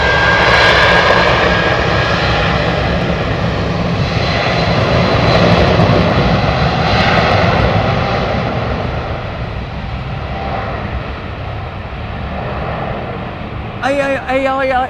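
Loud, steady roar of Boeing 777 jet engines powering up for departure, a broad rumble that swells and slowly eases, with voices talking over it.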